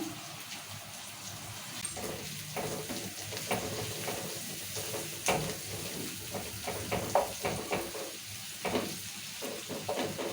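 Turmeric and ginger fry in hot oil for a meal maker curry, giving a steady crackling sizzle broken by scraping, stirring strokes, close and clear with no talk.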